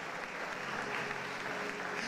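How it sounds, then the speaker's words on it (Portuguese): A church congregation applauds in a continuous, even wash of many hands clapping, steady throughout and heard from a distance at modest volume. "Aplaude a Jesus, que ele merece"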